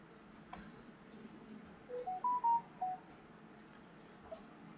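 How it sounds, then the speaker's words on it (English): A mobile phone gives a short, faint electronic melody of four or five stepped tones over a quiet room hiss, with no talking. "That's me phone saying something."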